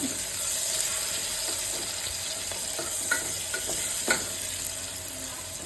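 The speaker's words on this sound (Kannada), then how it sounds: "ಅದೇ ಎಣ್ಣೆಯಲ್ಲೇ ನಾನು ಈರುಳ್ಳಿ ಫ್ರೈ ಮಾಡ್ತಾ ಇದ್ದೀನಿ" Sliced onions frying in oil in a pan for egg donne biryani, a steady close sizzle with occasional soft stirring clicks and scrapes.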